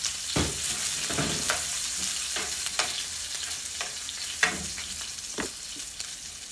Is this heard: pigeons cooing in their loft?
no